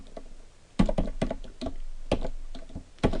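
Typing on a computer keyboard while coding an HTML form: a quiet lull, then bursts of crisp, fast key clicks close up, continuing in uneven clusters with no voices.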